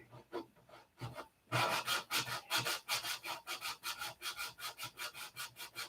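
A painted piece is hand sanded in quick, steady back-and-forth strokes, a close, rhythmic scratchy rubbing that grows louder after a brief softer start.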